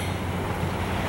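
Ocean waves washing in at Santa Monica Beach on a sunny afternoon, a dense, steady surf roar mixed with wind noise on the microphone, brief and fairly loud.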